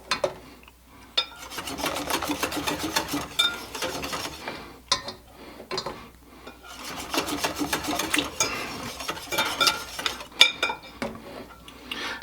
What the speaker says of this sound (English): I need to make sure I whisk it continuously